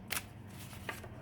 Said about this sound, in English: They are thick, papery, and they are nice to shuffle.